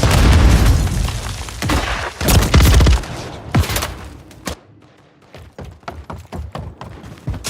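Loud explosions and bursts of gunfire from a grenade blast in the video game Warzone, with heavy booming impacts in the first few seconds followed by a string of sharper shots and thuds.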